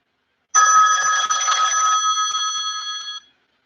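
A call-in show's telephone gives one steady electronic ring lasting about three seconds, loud and close, with silence on either side.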